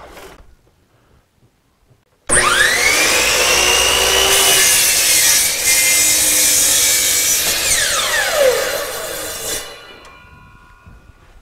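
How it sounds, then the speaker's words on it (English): A miter saw cuts through a wood board for a table saw sled: a sharp whine as the blade spins up, a loud sustained cut lasting several seconds, then the motor winding down. "I'm just going to cut it off on the miter saw"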